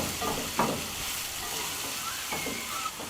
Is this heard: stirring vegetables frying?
yes